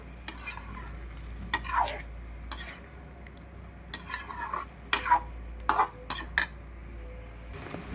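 Gongura egg curry stirred in a pan, heard as intermittent close scrapes and light clinks of a spoon against metal, separated by quiet gaps, over a faint low background hum.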